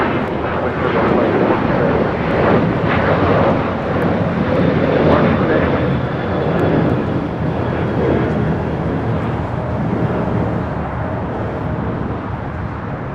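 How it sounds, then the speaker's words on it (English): Delta Airlines Boeing 737-800 departing LAX for Puerto Vallarta, a loud, steady jet roar that holds strong throughout with broad rumbling noise, close and continuous. "This is Delta Airlines 1865 taking off to Puerto Vallarta on a 737-800."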